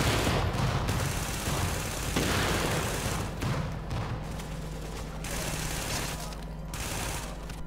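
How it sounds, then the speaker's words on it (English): The Big Alejandro, an MG42-style light machine gun in The Division, fires in long, dense bursts of rapid gunfire with brief gaps, fairly quiet overall and mixed with background game noise. "This new light machine gun is modeled after the MG42"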